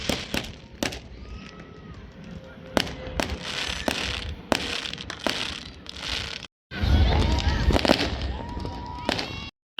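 New Year fireworks burst on all sides, sharp cracks and pops repeating irregularly at varying distances over a busy crowd background, with a brief drop to near silence midway.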